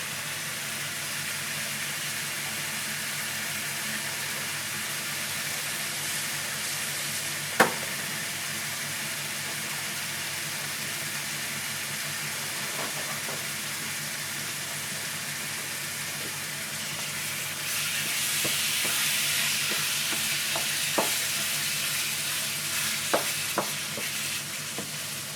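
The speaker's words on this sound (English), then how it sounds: "So now it's basically cooking now, not quite poaching, but cooking, boiling in the oil." Nasi goreng ingredients bubbling and frying in hot oil give a steady, even sizzle for the whole stretch, with a few sharp clicks and taps of utensils and a slightly louder, hissier rise in the second half.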